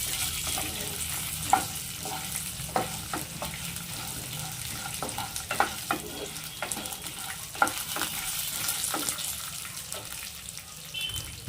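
Five green chillies fry in a pan for a tiffin-centre style chutney, giving a soft continuous sizzle with occasional sharp clinks and scrapes of stirring, fairly quiet and close with no talking.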